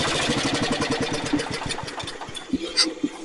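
A Ford LGT 125 lawn tractor's small engine chugs with a rapid, even pulse, then loses rhythm and sputters into a few uneven final knocks as it is shut off, close and fairly loud.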